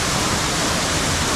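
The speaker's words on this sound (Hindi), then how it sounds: "भाई फाइनली हम लोग पहुँच चुके जिस वाटरफॉल में आना था" Steady roar of a waterfall at a secluded spot near Dehradun, a continuous broadband rush of falling water filling the whole stretch at close range, with no voices over it.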